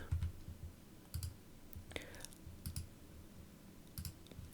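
A computer mouse gives soft, close clicks, about five of them spaced irregularly, over a quiet room hum.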